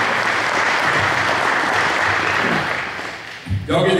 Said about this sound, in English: Y'all give these coaches another round of applause.